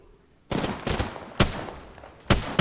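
Gunfire in the video game Apex Legends: loud, sharp bursts of shots, one near the start followed by several separated volleys over a couple of seconds, with no voices.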